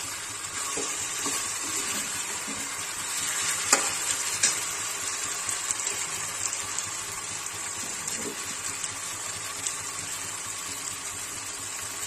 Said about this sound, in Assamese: এনেকৈ আমি কিছু সময় ভাজিম